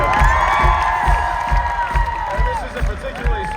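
A crowd at a concert cheers for a band member. The cheering comes over a steady thumping beat while an amplified voice speaks above it, loud and close throughout.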